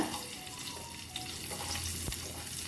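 Onion and green chili fry in hot oil for a horse gram flour dish, giving a steady, fairly quiet sizzle with a brief stir or clink near the end and no voices.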